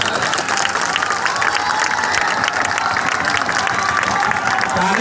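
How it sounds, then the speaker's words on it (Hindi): Sustained dense applause from a large crowd at a Jan Suraj election rally in Bihar, steady and loud throughout with cheering mixed in. "अब जिसको जिसको ताली बजाना है वो बजा लो"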